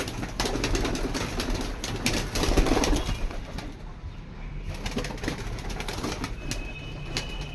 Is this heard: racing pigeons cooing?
yes